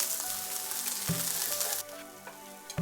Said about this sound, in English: Shallots, all right. Get them stirred up a little bit.